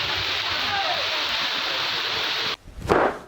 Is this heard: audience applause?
no